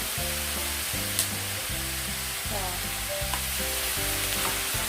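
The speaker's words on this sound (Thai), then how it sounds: "คั่วมาได้สักพักแล้วนะคะเพื่อนๆเราจะเติมน้ำตาลนะคะ" Minced pork larb dry-fries in a pan, a steady hiss of sizzling with occasional scrapes of stirring, under a continuous tonal hum in the background.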